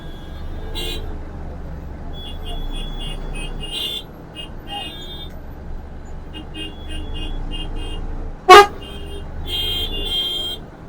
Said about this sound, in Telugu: ట్రాఫిక్ జామ్ అయింది